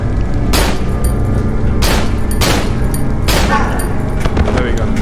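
Repeated shotgun blasts boom in the horror video game Cry of Fear, four or five loud shots spaced about a second apart over a dense, rumbling game soundtrack.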